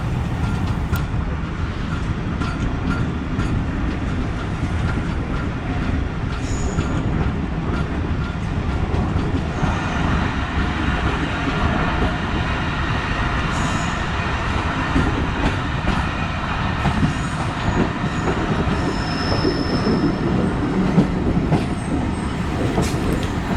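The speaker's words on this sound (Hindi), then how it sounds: "ट्रेन ओकाड़ा से निकल के एक दफ़ा फिर स्लो होना शुरू हो गई है" Tezgam express train running on rails between Lahore and Multan, a steady, continuous rumble of wheels and carriage noise heard from on board, with faint squeals now and then and no talk.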